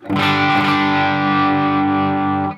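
A single electric guitar chord through a Line 6 Helix with low-gain overdrive is struck and left to ring, a mild overdriven crunch sustaining evenly for a couple of seconds.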